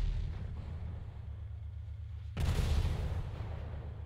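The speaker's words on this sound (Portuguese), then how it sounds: "Eu dei um tiro e pegou em mim." A gunshot in GTA V lands as a sudden loud burst over a low rumbling game background, leaving a sustained noisy tail afterward.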